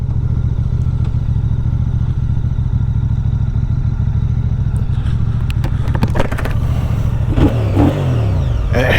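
A Benelli Tornado 550 motorcycle engine idles with a steady low rumble, then revs sharply several times, the pitch climbing and falling quickly; loud and close, no talking.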